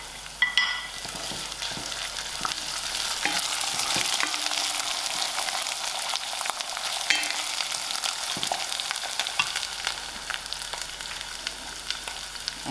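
Onions, garlic, green chilies and curry leaves frying in oil for a chickpea chana chutney, a steady loud dense sizzle with occasional stirring scrapes, close and continuous without talk.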